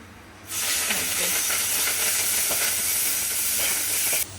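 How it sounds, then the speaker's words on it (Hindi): Spinach drops into a hot cumin tempering with turmeric and bursts into a loud, steady sizzle and hiss that holds for several seconds, close by and with no talk over it. "उसके बाद में हमें डालनी है हमारी पालक।"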